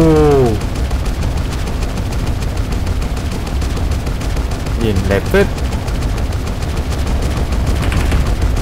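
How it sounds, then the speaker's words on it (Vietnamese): In the PUBG Mobile Lunar New Year event map on the Great Wall, a six-barrel gun fires fireworks in a loud, continuous rattling barrage with whistling bursts, while someone talks over it. "6 lòng bắn pháo hoa."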